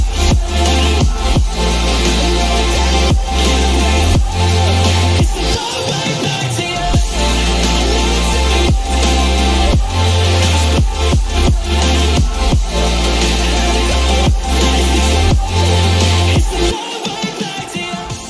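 Electronic dance music drop from a remix, loud and dense, with pounding sub-bass pulses, rhythmic chopped synths and bright layered leads driving steadily before cutting off abruptly near the end.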